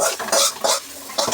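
Fried rice with capsicum, onion and ginger-garlic paste is stirred in a pan, close and loud: three quick rhythmic scraping sweeps over a sizzling hiss.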